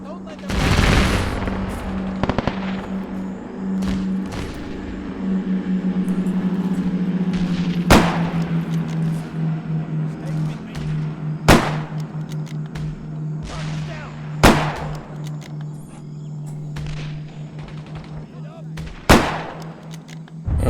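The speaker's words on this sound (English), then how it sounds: "Okay, shooting." Gunfire in ARMA 3 during a WW2 Pacific War battle in the Solomon Islands, with a low engine drone running throughout and sharp single shots cracking out at intervals, mixed with scattered bursts and voices calling over the action.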